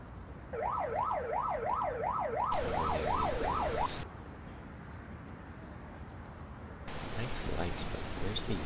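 A wailing electronic ambulance siren in the video game Emergency 4 sweeps up and down rapidly for a few seconds amid a synthetic noise hiss, then cuts out, leaving a quieter background hum.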